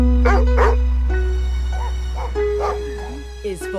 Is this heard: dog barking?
yes